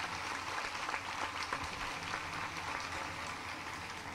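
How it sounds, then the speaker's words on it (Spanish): A church congregation applauds during a Catholic Mass, a steady, dense wash of clapping from many hands that carries on evenly throughout. "Un aplauso grande para ellos."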